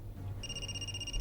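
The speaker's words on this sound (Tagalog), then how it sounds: "Niyaram na si imong bulsa imong cellphone." A cellphone rings from inside a pocket, a faint steady electronic tone that starts partway through and holds on, muffled under a low background hum with no talk.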